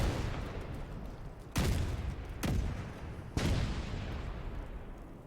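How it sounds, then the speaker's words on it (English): Three sharp bursts of fireworks in the video game Division 2, at a Coney Island haunted house, crack out over a constant rumbling background, spaced about a second apart, each with a bright, quickly decaying tail. "Gas cans, but that is fireworks."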